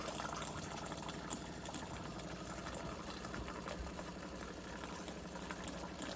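A DeLonghi Magnifica Start espresso machine pours hot water from its steam wand, giving a steady hissing, gurgling stream with a low pump hum throughout, fairly quiet.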